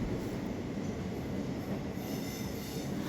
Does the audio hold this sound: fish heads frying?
no